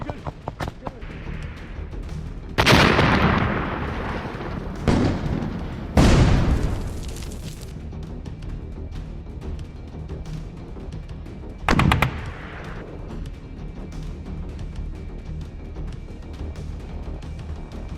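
Grenade blasts and small arms fire in a battle: several loud explosive bursts and sharp shots stand out, with quieter distant rumble and gunfire between them.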